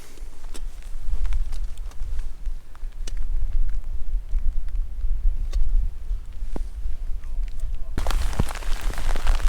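Heavy rain patters steadily on a surface nearby at a wild camp on Cadair Idris, a dense continuous hiss with scattered louder drops.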